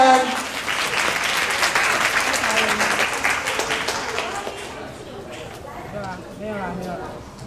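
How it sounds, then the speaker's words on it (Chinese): Audience applause at a Christmas evening show put on by a church young adults' fellowship, loud dense clapping that fills the room, then thins and fades while a voice speaks over the tail. "我们就用最热烈的掌声来欢迎我们最后一个节目"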